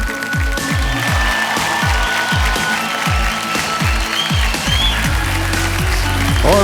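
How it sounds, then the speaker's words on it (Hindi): Studio audience applause on the Kaun Banega Crorepati game show set, a steady wash of clapping heard over rhythmic, booming music beats throughout. "एक बार फिर अभिनंदन इनका तालियों के साथ करते हैं"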